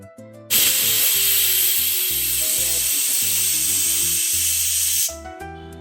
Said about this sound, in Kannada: cooker whistle ಹಾಕ್ತು